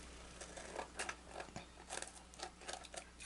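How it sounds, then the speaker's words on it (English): Scissors snip through paper overhang while a mini bar treat holder is being crafted; faint, quiet crunchy cuts come in a loose, irregular series. "you're just gonna cut that off anyway with your scissors"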